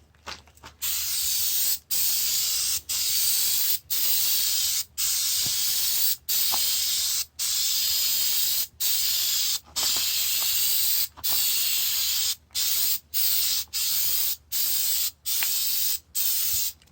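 Flex Seal spray can hissing in a long series of steady bursts, each a second or so long with brief gaps between, close and fairly loud with no talking.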